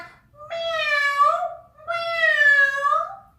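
Two drawn-out meows, clear and close, one after another with a short pause between them.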